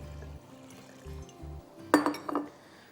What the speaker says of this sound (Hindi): so quite a lot of water will go